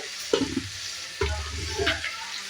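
Green chilli paste frying in hot oil in a pan for mutton liver fry, a steady close sizzle broken by two or three spoon scrapes as the mixture is stirred.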